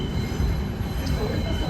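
Subway train running on the track, a loud rumbling roar with high wheel squeal heard from on board as it heads into a turn.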